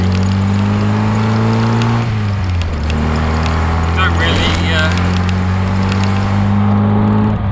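The engine of a K-series MG Midget drones steadily up close while driving, with rattles and jolts over a bumpy city road and a brief drop in engine pitch midway.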